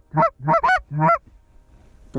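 Wild geese honk over a frozen field during a goose hunt, four loud, close calls in quick succession followed by a quieter stretch.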